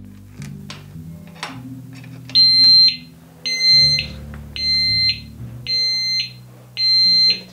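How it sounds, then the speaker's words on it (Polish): A motorcycle disc lock alarm sounds in five loud, evenly spaced shrill electronic beeps, each lasting about half a second, after a few faint clicks and handling noises. "Odpala się alarm i w zależności od disc locka jest on upierdliwy, coraz głośniejszy albo nie do wytrzymania."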